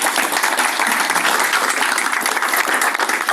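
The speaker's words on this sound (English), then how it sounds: "Give it up to Chairman Davis for his hard work." An audience at a joint annual meeting applauds, a dense, loud, sustained wash of clapping that carries on steadily throughout, with no voices on top.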